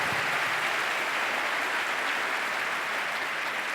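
Steady, dense applause from a large audience at an academic conference in Puebla, continuous and fairly even for the whole stretch with no voices on top.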